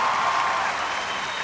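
Dense, steady clapping from a large audience at a live stage event fills the moment, continuous and loud without letting up.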